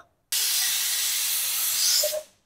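A loud, steady hiss of steam bursting out of a pressure cooker whistle after a short silence, holding for about two seconds before cutting off, while cooking kadhi khichdi over a medium flame.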